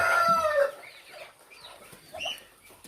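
Chickens and a rooster at a rice mill, kept on rice husks and bran: a loud burst of clucking and crowing opens, then quieter scattered clucks and calls follow.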